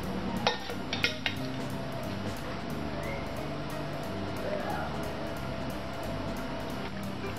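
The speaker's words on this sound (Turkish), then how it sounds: "Sonra bu tencereyi kaynar su dökerek yıkayacağım." Steady rush of boiling water pouring into a metal pot to wash it fills the clip, with a few clinks of the pot near the start.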